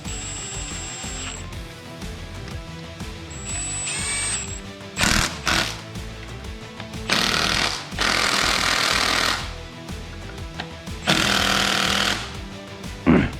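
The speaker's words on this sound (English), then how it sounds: "I'm going to tap these in with the impact because the cap's coming back off" An impact wrench taps bolts into a Cummins 6.7 diesel engine in a workshop, firing in several short, loud rattling bursts separated by pauses, close by with no talk.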